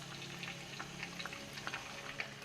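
Soft sizzling and bubbling of quesadillas frying in a pan, with scattered crackles and pops over a steady low hiss.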